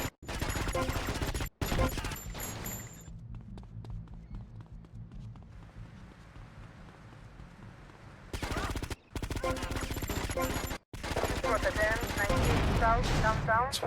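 Gunfire in GTA Vice City aimed at moving bikes, with long stretches of dense rapid shooting split by a quieter middle section full of engine and street noise.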